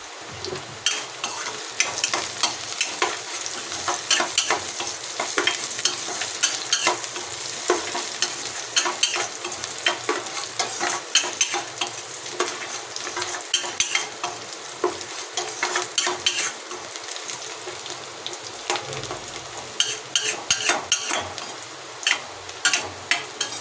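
Salt-seasoned aromatics sauté in a pan ahead of okra, giving a steady, close crackling sizzle with frequent stirring scrapes and clinks of a spoon throughout, no talking.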